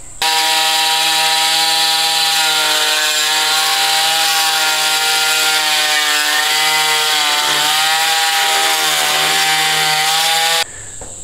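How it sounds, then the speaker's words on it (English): A small oscillating multi-tool cuts a gap of a few millimeters along a wall while building a recording studio, a loud, steady buzzing drone running almost continuously for about ten seconds before stopping. "So I'm going to use a little multi-tool and cut, you know, a few millimeters gap all the way along."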